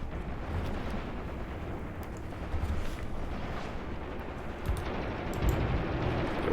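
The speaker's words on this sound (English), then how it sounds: "The arty is firing. Artillery strike." Distant rumbling artillery explosions in the WWII tactics game Graviteam Tactics: Mius Front, a continuous low roar of blasts with a few sharper thuds near the end, heard without voices.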